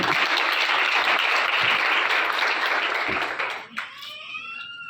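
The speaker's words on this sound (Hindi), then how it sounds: "हालेलुया, हालेलुया, जोरदार ताली बजाइए।" A church congregation claps loudly in dense, sustained applause that fills the room, then fades out near the end as a tonal sound rises in its place.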